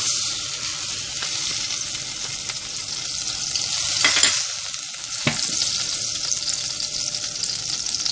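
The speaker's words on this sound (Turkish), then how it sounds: "Evet çorba tenceremize tereyağımızı ekleyelim." Steady sizzling of butter melting in a soup pot, with a couple of brief scrapes or clinks partway through; no voices.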